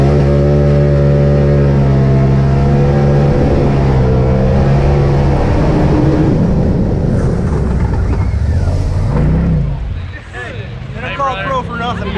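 A Polaris RZR Pro side-by-side drives through a Florida swamp bog, its engine roaring loud and close with rising revs and splashing water, and people talk over it until the noise drops off near the end.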